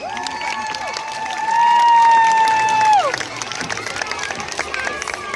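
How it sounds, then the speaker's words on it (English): Crowd applause and cheering for a performer from Panama at an outdoor multicultural festival, with loud sustained whistle-like tones swelling over the first three seconds before a looser spread of claps and voices carries on at a lower level. "Give him one more clap."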